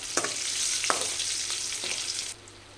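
Green chillies and curry leaves sizzle in hot oil as tempering for a traditional pumpkin pulusu, a steady close frying hiss with a few stirring clacks, no voices, before the sizzle drops off near the end.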